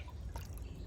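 About 10 ml of a 50% hydroponic nutrient solution is poured into a container of water, giving a soft, close, steady trickle with a faint splash.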